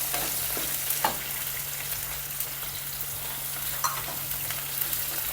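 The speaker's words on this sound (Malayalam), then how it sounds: "ഇതിലോട്ട് ഈ അരിഞ്ഞു വെച്ച ഉള്ളിയില്ലേ," Chopped onions frying in hot oil with a sprig of curry leaves for a snake gourd and potato thoran, giving a steady, even sizzle with a few soft pops and no talk.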